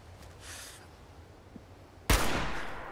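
Gunshot in Fallout 76: a single loud, close crack that bursts out after a quiet stretch of faint game ambience and decays into a lingering echoing tail.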